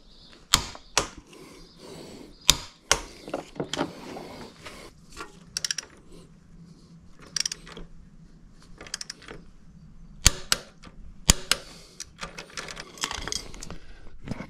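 Ratcheting torque wrench tightening the upper rear suspension mounting bolt to 54 Nm on a Honda CRF250L, sharp metallic clicks in irregular bursts, close and fairly loud, with quiet rustling between.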